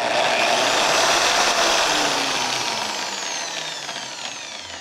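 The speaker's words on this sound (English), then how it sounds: "When I made this mini drill-powered lathe" A small drill motor whirs steadily as a wooden piece turns on a mini drill-powered lathe against a tool, with a rough rubbing, sawing scrape throughout, close and fairly loud.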